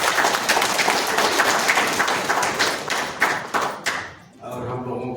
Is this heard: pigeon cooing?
no